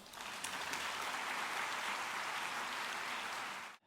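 A congregation at a Sunday morning university church service gives warm welcoming applause, a faint, even wash of many hands that holds steady and then cuts off at the end.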